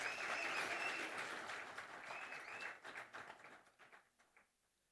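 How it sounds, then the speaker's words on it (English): Audience applause at a leadership dialogue event fills the room at first, then thins into scattered claps and dies away over a few seconds. "And let's give him a wonderful round of applause for that"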